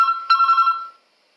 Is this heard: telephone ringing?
yes